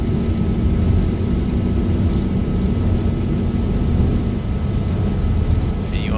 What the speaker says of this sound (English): Look how long the takeoff roll is as well.